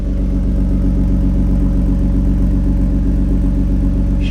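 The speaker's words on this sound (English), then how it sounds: "Just a gentle rumble coming from the tailpipe back here." A 1993 Toyota Supra idling, its engine giving a steady, loud, even rumble from the tailpipe close by, with no pauses and no voices.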